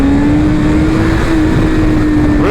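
BMW S1000RR sportbike engine holding a steady loud drone at near-constant revs throughout a poor wheelie attempt, with a brief pitch shift near the end; no talking.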